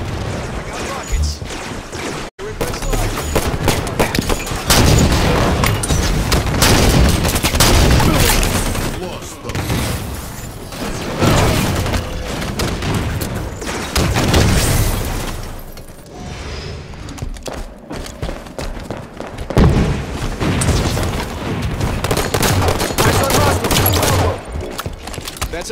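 Constant, dense booms and blasts from rocket launcher fire in the Halo 5 shooter game, packed into a long noisy stretch of combat with brief dips. Voices speak over the din.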